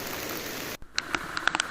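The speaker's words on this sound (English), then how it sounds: "Let's see how it's raining." Rain falling around a bike rider on a road trip in North Bengal, a steady hiss of rain for most of the moment, then a brief hush followed by scattered louder drips and splashes close by.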